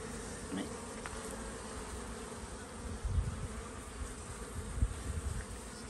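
Honeybees buzz around an open hive in a backyard apiary as a super is being added, a dense, steady close drone with individual bees sweeping past the listener.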